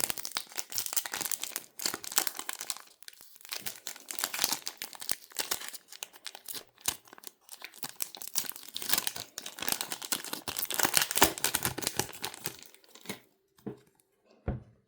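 Continuous crinkling and tearing of a foil trading card pack wrapper, close and fairly loud, with irregular bursts for most of the clip before it falls quiet.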